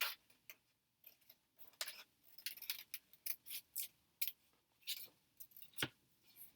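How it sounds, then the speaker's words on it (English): Scissors snip paper into flower shapes, with sharp, close, irregular clicks and short cuts in quick bursts separated by brief pauses in an otherwise quiet room. "So we're just going to take our scissors"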